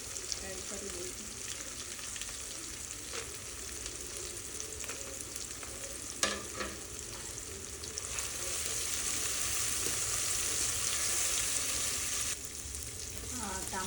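Peanuts frying and stirred in a pan with tomatoes for a dry potato bhaji, a constant close sizzle with light scraping and one sharp clack, brightening and swelling midway.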